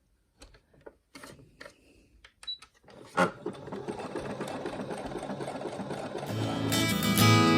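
A sewing machine runs a zigzag stitch, starting with scattered clicks and taps of setup, then settling into a steady, fast mechanical rattle that grows louder and busier toward the end.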